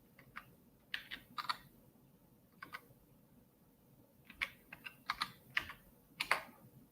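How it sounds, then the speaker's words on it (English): Someone types on a computer keyboard in quiet, uneven bursts of soft key clicks, with short pauses between clusters of keystrokes. "I'm not typing straight this morning, am I?"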